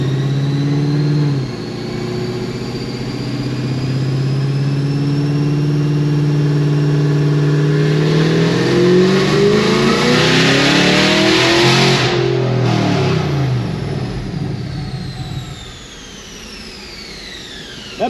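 A Magnuson-supercharged Cadillac CTS-V, built to around 1200 hp, revs hard from a steady drone into a rising, loud howl that peaks, then cuts off abruptly as the exhaust blows off the header, leaving a quieter rumble.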